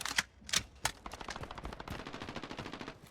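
Ammunition cooking off in Modern Warfare, three sharp loud bangs followed by a rapid rattling string of pops that continues steadily, like crackling bursts of gunfire.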